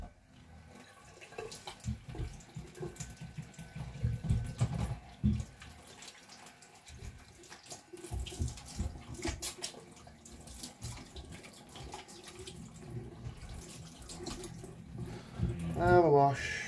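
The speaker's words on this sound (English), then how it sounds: "Have a wash. Wash your hands." Hands being washed under a running water tap, the water splashing and gurgling into a sink with varying intensity. A person talks over the flow throughout.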